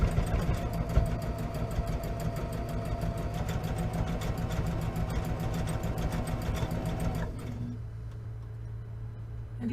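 A sewing machine stitches tote bag handles at a moderate stitch length, running at a steady, even pace with a rapid rhythmic clatter and motor hum, then stops near the end.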